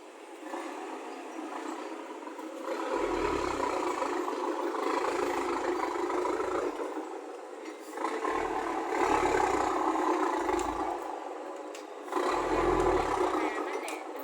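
A tractor engine roars on a narrow road, its loud rumble swelling and easing in several pulses over a steady drone, with people talking throughout.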